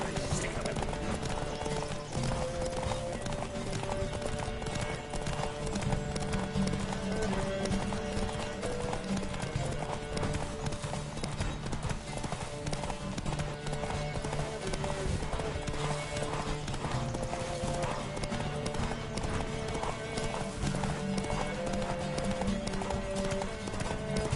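A horse galloping in The Witcher 3 makes steady rhythmic hoofbeats under continuous game music and sound effects, with a raised voice calling out over the action.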